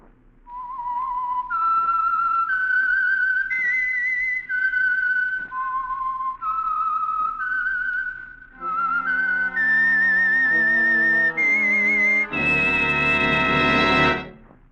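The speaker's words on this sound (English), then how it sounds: "the signal to listen for is this whistle that identifies the Signal Oil program" A melodic whistled radio program theme of sustained, gliding notes, rising and falling in phrases, ending on a brighter, louder orchestral-sounding chord.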